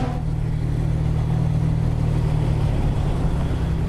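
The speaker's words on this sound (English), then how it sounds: "XK150's engine and exhaust burble as we travel up the ramp" A Jaguar XK150's engine gives a steady, deep burble with a rumbling exhaust, constant and close, holding an even low throb throughout while driving up a ramp.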